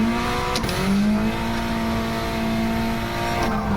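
A Honda Civic Type R FK8 on a race track holds a steady, loud engine drone at close range, then drops pitch as it brakes and turns in, with brief clunks from shifting; no voices.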